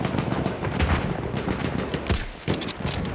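Rapid bursts of rifle and machine-gun fire in a World War I video game battle set on Monte Grappa in the Venetian Alps in 1918, dense and loud, with sharp individual cracks standing out throughout.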